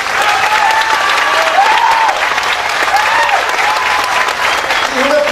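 A large audience at a public event in Coahuila gives loud, sustained applause, a dense continuous wash of clapping with some voices and cheers mixed in.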